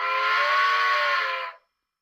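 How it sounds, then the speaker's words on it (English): The steam whistle from a sound decoder in an HO scale Rivarossi 4-8-8-4 Union Pacific Big Boy gives one steady, chordal blast of about a second and a half, then cuts off sharply to silence. "Here's the whistle."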